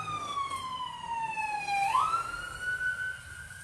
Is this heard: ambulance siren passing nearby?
yes